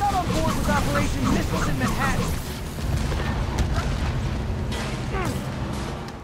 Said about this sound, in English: why is everyone shooting rockets all of a sudden?